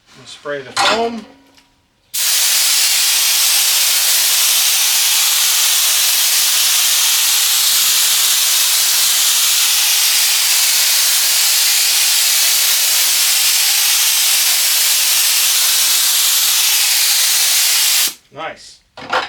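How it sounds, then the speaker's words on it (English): A spray gun applies adhesive onto seat foam during reupholstery of a 1976 Ford F-150, one loud unbroken hiss lasting about sixteen seconds, with brief handling noises before and after. "And spray the foam."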